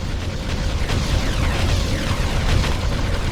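An enemy structure blows up in the strategy game Ground Control, a sustained rumbling explosion with crackling debris that swells and rolls on for several seconds, loud and close.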